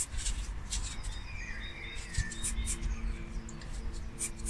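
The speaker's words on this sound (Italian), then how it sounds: "Io mi vado a fare spesso delle passeggiate nel bosco e lì mi registro questo cinguettio di questi uccelli." Wild birds singing in a forest, with faint, scattered chirps and tweets rising over a low, steady background rumble.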